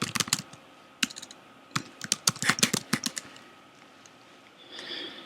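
Keystrokes on a computer keyboard as network router commands are entered, irregular clusters of close, crisp clicks with short pauses, alone without talk.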